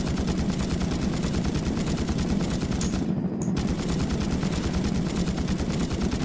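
Relentless rapid gunfire in The Thing Remastered video game hammers on close and loud, a dense steady rhythm of shots with only a momentary dip partway through.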